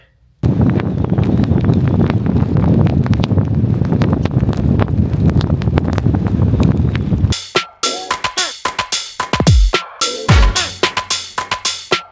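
Strong wind roars steadily into the microphone during snowfall for several seconds, then gives way to choppy gusts and buffeting bursts near the end.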